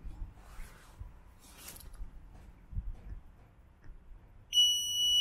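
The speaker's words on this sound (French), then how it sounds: "Premier bip, il détermine la position haute du coffre." A single sharp electronic beep sounds near the end, clear and high-pitched, from an electric trunk strut controller on a Tesla Model 3, after soft mechanical rustling and quiet handling noises.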